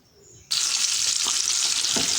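Onions and fresh tomato going into a pan of hot oil, a sudden loud sizzle erupting after a brief quiet start and holding steady, with a couple of faint stirring knocks; no speech.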